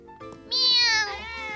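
A cat meows once in a Caillou cartoon, a clear, drawn-out rising and falling cry, fairly close, with soft background sounds before it.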